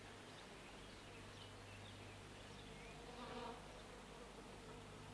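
Bees kept at a country cottage: a steady, close buzzing hum throughout, dense and unbroken, with a slightly louder swell in the middle.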